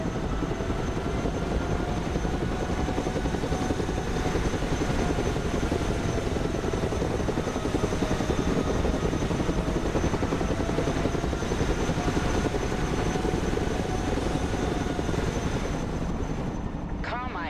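Helicopter in the Broken Arrow military strategy game, a steady loud rotor and turbine drone holding for the full stretch with a whining tone above it, a brief chirp near the end.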